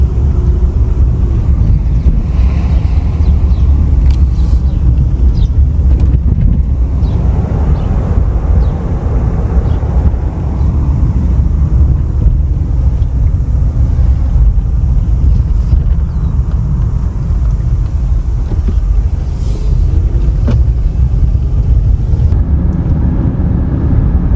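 Steady loud road rumble and wind noise from inside a car driving through an older working-class neighborhood in southeast Portland, continuous with no talking.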